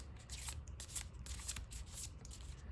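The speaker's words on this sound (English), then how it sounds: "Get a quick shuffle rolling." Cards from a trading card game deck being shuffled quickly at a table, a steady run of crisp riffling and sliding flicks close up with no talking.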